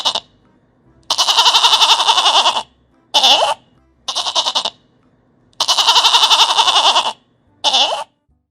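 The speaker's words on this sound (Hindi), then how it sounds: "शीप मीन्स भेड़ की साउंड को ब्लेट बोलते हैं" Sheep bleating in six separate calls, some long and drawn out, others short, loud and close with silent gaps between them.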